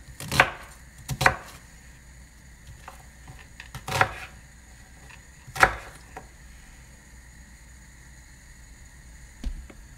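A knife chops basil on a board in a few distinct, sharp strokes, some doubled, spaced irregularly over a quiet kitchen background.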